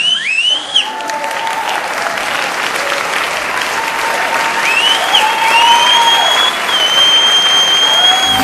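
Crowd applause runs steadily through a hard-hitting Filipino rap song, with a dense clapping wash mixed under whistling synth tones and music from start to finish.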